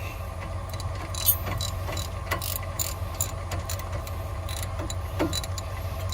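A hand ratchet clicks steadily while turning brake screws during a front brake job on a 2010 Ford Escape, producing soft, close, rapid pawl clicks over a low background hum.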